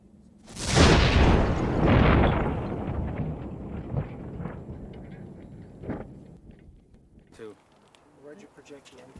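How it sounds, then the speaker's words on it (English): A small pipe bomb goes off in a test, a heavy sudden boom that rolls and rumbles for a couple of seconds before decaying into scattered debris thuds and fading reverberation, with a voice speaking near the end. "It quickly becomes evident how destructive these small pipe bombs can be."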